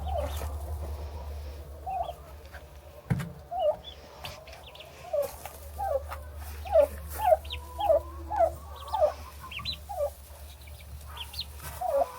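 Baby turkeys peeping and chirping in a series of short, repeated calls, close by, with a low background hum and a brief thump near the start.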